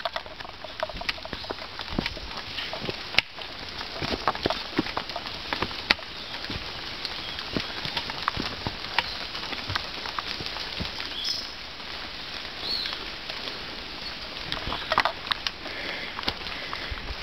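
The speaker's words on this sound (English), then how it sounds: "the rain makes it so much more fun" Rain patters in a hillside jungle at the base of Mount Tapochau on Saipan, a soft continuous pattering of drops on leaves with scattered sharper drips, fairly quiet and with no voices.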